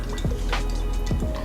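Vegetable oil is poured into water to make a lava lamp, giving close, bubbly gurgles and drips that repeat in quick pulses over steady background noise.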